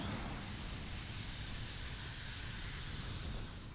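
Jet aircraft on a carrier flight deck sits at the bow catapult as the launch bar is set in the shuttle, a steady loud engine roar with a high whine running unbroken and alone throughout.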